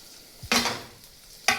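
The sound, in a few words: ginger and garlic frying in melted butter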